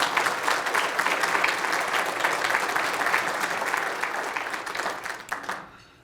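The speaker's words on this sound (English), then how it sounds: "Let's give her a round of applause." Sustained applause from an audience at a Martin Luther King, Jr. breakfast event, a steady wash of many hands clapping that holds for about five seconds before tapering off to quiet.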